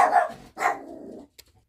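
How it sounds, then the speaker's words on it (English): Two small dogs, a Chiweenie and a miniature golden retriever-type dog, bark loudly and close by from the back of a couch at home, a couple of sharp barks followed by a quick yip. "I have a little Chiweenie and a dog that looks like a golden retriever, a miniature golden retriever"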